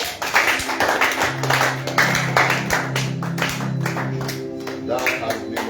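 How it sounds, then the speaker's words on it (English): A church congregation claps along in steady rhythmic bursts, loud and close, with voices and a sustained musical tone running underneath. "Let us give a hand clap to the man of God"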